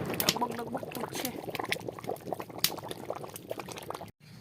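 Meat boiling in water in a pot for homemade biryani, a close burble of bubbling liquid with irregular pops and gurgles, cut off by a brief silence at the end.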